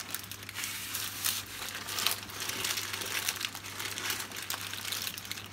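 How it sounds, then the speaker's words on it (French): Parchment paper crinkles and rustles steadily as a potato roll stuffed with minced meat is rolled up in it, close and fairly quiet, with a low hum underneath. "On va commencer à rouler tout doucement. De cette manière-là, à l'aide du papier sulfurisé,"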